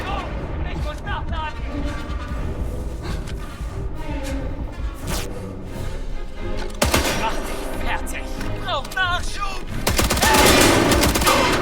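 Rapid bursts of video game gunfire, some in quick automatic volleys, crackle steadily over busy game sound and music, with a heavier barrage near the end.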